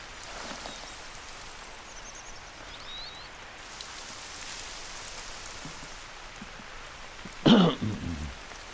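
Steady rain in the video game theHunter: Call of the Wild hisses continuously, with a brief louder burst of spattering near the end.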